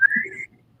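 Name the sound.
human whistling a very high tone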